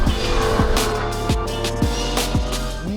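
Lotus Emira sports car with a manual gearbox, its engine revving hard through repeated gear changes, a steady loud drone rising and dropping in pitch about every half second as it accelerates up close.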